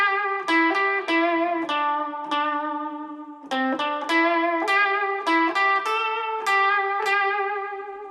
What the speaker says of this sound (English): put a little bit of silly vibrato and lots of reverb and stuff on it, then you end up with a kind of Chinese sounding melody